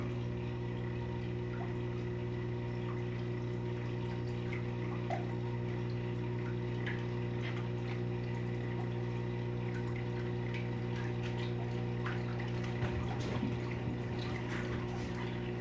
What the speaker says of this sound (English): You can see the water starting to go into my weir.